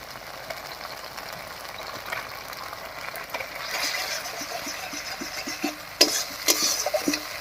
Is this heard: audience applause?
no